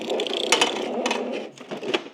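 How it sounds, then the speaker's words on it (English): An Epson 18100 EcoTank printer feeds a sheet of A3 paper and starts printing, giving close mechanical chuntering with clicks, whirs and ratchet-like bursts over about two seconds. "A lot of chuntering noises and printer doing stuff noises."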